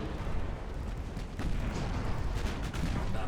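Naval 6-inch guns firing during a sea battle in the video game Ultimate Admiral Dreadnoughts, heard as a dense, continuous wash of booming reports and rumble with no clear gaps.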